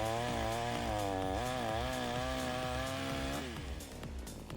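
A VitalsMaster petrol chainsaw cuts firewood, its engine holding a loud, steady high whine close by that bogs slightly under load and then eases off near the end.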